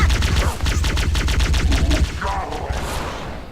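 Rapid bursts of automatic gunfire and explosions echo in a Halo battle, a loud string of shots followed by a fading blast.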